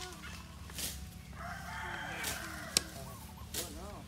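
A rooster crows faintly in a rural yard, short calls rising amid background clucking and ambient noise, with people talking nearby.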